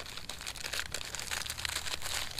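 A paper wrapper around an ice cream sandwich crinkles and rustles continuously and close up, with dense, crisp bursts and no talking.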